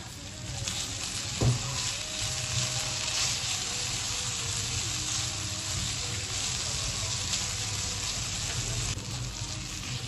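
Potatoes fry in a pan with oil, salt, crushed chili and black pepper, giving a steady, close sizzle that runs without a break, with a single knock of a utensil early on.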